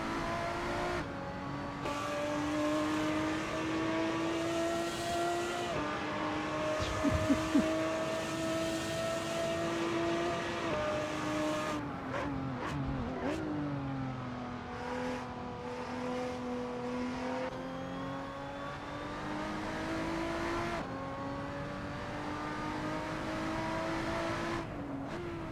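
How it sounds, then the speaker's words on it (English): A race car engine in Assetto Corsa drones loud and steady for about 25 seconds, its pitch sliding up and down through gear changes with a few brief drops in revs; no talk over it. "now we're gonna listen to this engine."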